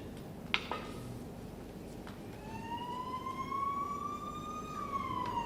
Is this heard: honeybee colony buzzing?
no